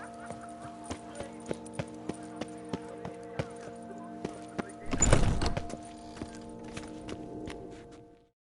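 Steady clip-clop of horse hooves in a video game, in an even trotting rhythm, with a brief loud burst of noise midway before the hoofbeats continue and fade.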